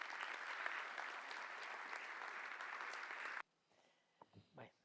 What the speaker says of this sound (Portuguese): Para eles todos, uma salva de palmas